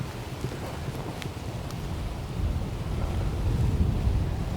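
Wind buffeting a microphone outdoors on a public-land deer hunt, a continuous low rumbling roar that swells slightly louder toward the end, with no other clear sounds.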